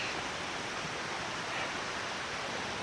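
Creek water flowing at a trail crossing near the Fallingwater Cascades on the Blue Ridge Parkway, a steady, close hiss of rushing water with no break and no voices.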